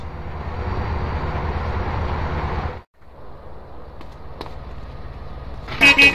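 A train rolls along in the video game GTA San Andreas, a loud rumbling roar that suddenly drops away to a quieter hum, with a short bright horn-like burst at the end.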